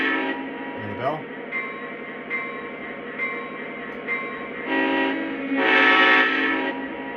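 Bell on a Lionel Union Pacific Katy heritage model locomotive, clanging at a regular steady pace over a constant diesel engine hum, with a short voice early on and a brighter horn-like swell near the end.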